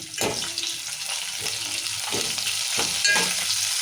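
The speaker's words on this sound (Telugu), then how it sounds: "ఇప్పుడు ఉల్లిగడ్డలు కూడా వేస్తాము" Sliced onions sizzle and crackle steadily in a hot pan while tomato rasam is being cooked, with a spoon scraping and stirring at intervals over the continuous frying hiss.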